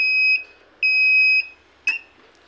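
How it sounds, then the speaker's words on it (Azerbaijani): An engine alarm signal triggered under load sounds as high electronic beeps, two long tones and a short third one, close and clear over a faint background hum. "həyəcan mühərrik ağırlığa düşdükdə gördüyünüz kimi həyəcan siqnalı işə düşür"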